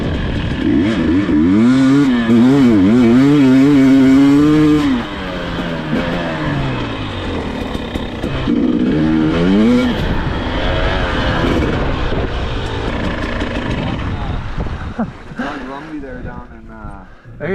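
A dirt bike on a trail near Calgary, Alberta revs and climbs, its engine pitch rising and falling in waves before settling into a rougher rumble, loud and close, with a rider talking over it at times.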